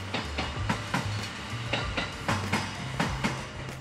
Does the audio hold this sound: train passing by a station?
yes